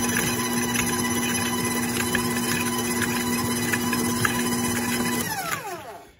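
Stand mixer with a paddle beating apple cider donut batter, a steady loud motor whir with a constant hum running for about five seconds before winding down and stopping.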